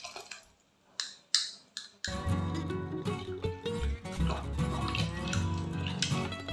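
Liquid poured steadily into a container while making rose apple wine, a continuous splashing gush that starts after a couple of light knocks and runs to the end under background music.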